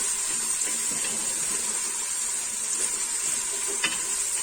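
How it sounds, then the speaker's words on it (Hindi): Chopped onions fry in a pan with a steady bright sizzle throughout and small crackles and pops scattered over it. "इसको फ्राई कर लेते हैं हम।"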